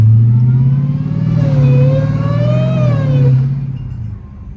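A 1000 hp Dodge Demon Charger, running with no hood, accelerates hard, its supercharger whine rising in pitch over a loud, close engine roar before easing off at the end.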